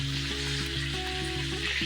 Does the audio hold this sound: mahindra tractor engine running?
no